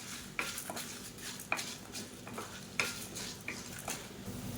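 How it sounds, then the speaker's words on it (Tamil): Chana dal roasting in a pan for chutney makes a soft, dry sizzle broken by regular scraping strokes of a spatula, about one every half second, each with a light metallic tick. "இப்போ கடலைப்பருப்பு நல்லா வறுபட்டு அதோட வாசனை நல்லா வரும்"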